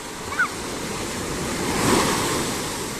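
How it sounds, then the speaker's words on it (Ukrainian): Strong, high ocean waves surge onto the shore at Puerto de Santiago, Tenerife, with a steady wash of surf swelling louder toward the end, wind buffeting the microphone throughout. "А хвилі дуже і дуже і дуже високі, і дуже сильні."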